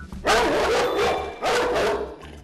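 Large Ovcharka dogs bark at outsiders, two deep and booming barks close by, each trailing into whining yips, with a low background hum.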